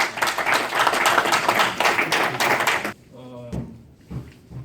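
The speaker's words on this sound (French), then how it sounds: "Applaudissez pour les candidats Mbassani." Audience clapping for candidates at an election campaign gathering in the DR Congo, dense and sustained for about three seconds, then stopping abruptly, followed by a few isolated knocks and a brief voice.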